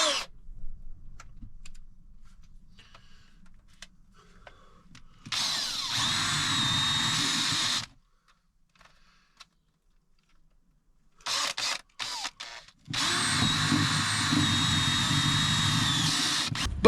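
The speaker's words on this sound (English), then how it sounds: "So obviously the hole is going to be drilled here" A power drill bores a hole into a Ford Transit Custom van for a diesel heater install, running in two loud, close bursts of whirring grind, one after a quiet stretch of faint clicks and another after a few short stabs.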